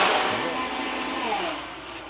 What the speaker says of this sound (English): And let it blend.